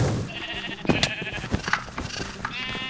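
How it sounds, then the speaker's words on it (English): Sheep bleating in Minecraft arcade play, several short nasal bleats repeating across the moment, loud and close among other game sounds, with no talk over them. "Because I love this sheep."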